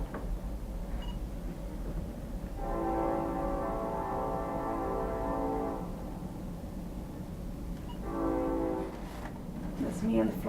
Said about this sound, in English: Background noise, trains.